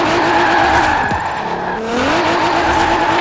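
A car drifting in Forza Horizon 4, engine droning close up as tires squeal through the slide, with pitch sweeping down and back up as the drift carries on.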